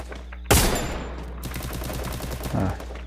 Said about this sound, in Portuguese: Vamos dar um tiro de carapina aqui.